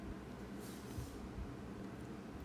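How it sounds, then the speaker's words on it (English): Steady low rumble and clatter of a train rolling along in the video game Overfreight, continuous and moderately distant, with no voices. "there are trains everywhere"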